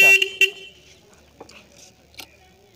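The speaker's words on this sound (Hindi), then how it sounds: "अब जो है ये देखिए हॉर्न भी है काफ़ी अच्छा" Horn of a homemade electric motorbike styled after a Royal Enfield Bullet, giving two short near honks in quick succession, followed by quieter faint background sounds.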